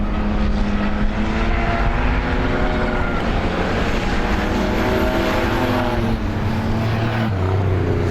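Dirt-track race cars, including car number 8, roar together down the back straightaway of a Six Shooter feature race, a steady, loud engine drone that holds without break.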